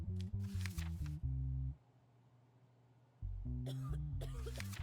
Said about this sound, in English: whoever's coughing